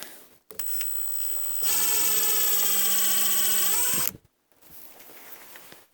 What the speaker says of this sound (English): to pre-drill the hole for the screw, because this is hardwood and you need to pre-drill for screws